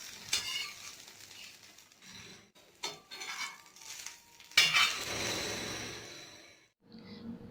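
A bread omelette sizzles in a pan as it is flipped, with soft frying hiss, scattered clinks of a utensil against the pan, and a louder burst of sizzle when the omelette turns over, fairly quiet and close.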